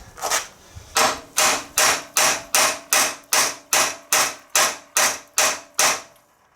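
Steady hammer blows strike the chassis of a 1972 Triumph Spitfire, about fourteen loud, close, sharply ringing hits in an even rhythm, each with a brief decaying ring and no talk over them.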